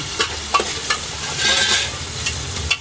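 Onions fry in a pan while being stirred for a butter chicken gravy. A steady close sizzle carries light scraping strokes throughout.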